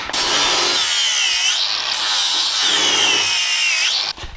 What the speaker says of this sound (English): Let me grind that off of there.